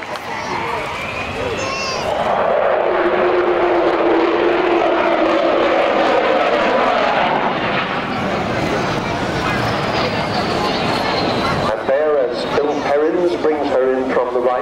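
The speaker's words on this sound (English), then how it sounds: "You've got a very brief sound of the famous Falcon howl Falcon makes." A Dassault Falcon jet roars past loudly at the Eastbourne air show with its rising, sweeping howl over heavy rumble, swelling then fading, while people talk underneath.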